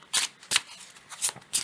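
Oracle cards being shuffled by hand, four quick crisp riffling bursts close to the microphone with short pauses between them.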